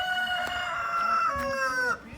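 A rooster crows in a village yard, one long, loud cock-a-doodle-doo close by that lasts about two seconds before breaking off, with no voices over it.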